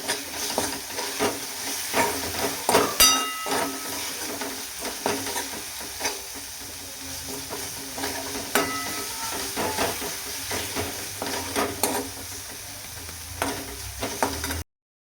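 Dal, green chili and garlic fry in hot oil with a steady crackling sizzle, broken by repeated scraping and clinking of a spatula stirring in the pan, close and fairly loud throughout.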